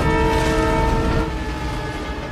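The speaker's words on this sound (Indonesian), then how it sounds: "kereta yang melaju dengan kencang menuju ke arah perlintasan" A train horn blares with steady sustained tones over the loud rumble of a passing train, with no talking.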